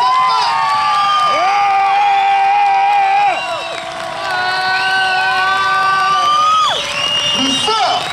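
A cinema audience at a film premiere shouts, whoops and cheers loudly together for several seconds, a dense crowd roar with children's voices rising above it, briefly dipping before surging again.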